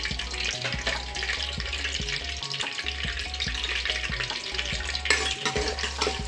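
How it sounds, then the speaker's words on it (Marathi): A spoonful of butter melts in hot oil inside a pressure cooker on a gas stove, giving a continuous close, bright sizzle and crackle with a low background hum throughout. "आपण गॅसवर कुकर ठेवून तेल टाकलेलं आहे। तेल टाकल्यावर 1 चमचा लोणी टाकायचे।"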